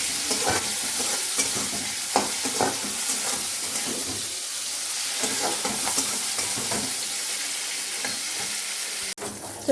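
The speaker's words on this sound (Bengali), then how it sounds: "ঝিঙ্গেটাকে ভালো করে ভেজে নেব সামান্য পরিমাণে লবণও দিয়ে দিয়েছি" Ridge gourd and beans frying in a pan, giving a loud, continuous close sizzle broken by intermittent scraping and stirring clatter, ending with a sudden sharp knock.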